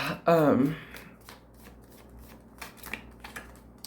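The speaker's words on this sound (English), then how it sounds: "I'm still shuffling." Tarot cards are riffled in one loud, close shuffle near the start, followed by softer scattered card handling and flicks.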